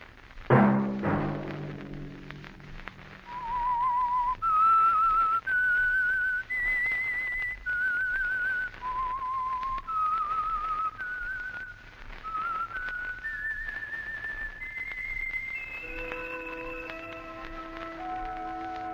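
Someone whistles a slow, melodic tune alone, clear sustained notes rising and falling after a short loud burst at the start.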